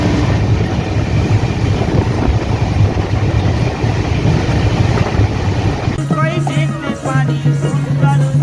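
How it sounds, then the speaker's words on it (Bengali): The 12337 Shantiniketan Express pulls into Bardhaman Junction with a loud, steady rumble of wheels and carriages, heavy wind buffeting and strong station noise, and a long sustained horn-like tone near the end. "কিন্তু আমাদের ট্রেন এসে 11টা 34 নাগাদ"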